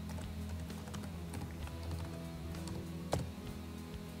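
Someone types a login and password on a computer keyboard, a quiet stream of light key clicks with one sharper tap near the end, over a low hum and without talk.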